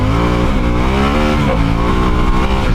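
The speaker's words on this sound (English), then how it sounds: "this bike is properly fun and properly fast" A Harley-Davidson Pan America motorcycle's engine roars loud and close while riding, holding a steady, throaty drone with slight pitch rises as it pulls.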